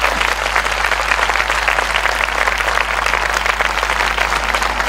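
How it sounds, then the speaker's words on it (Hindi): A church congregation claps for its pastors and leaders, loud continuous applause from a large crowd sustained without a break, close and full. "आइए हम अपने अगुओं के लिए एक अच्छी ताली बजाएंगे"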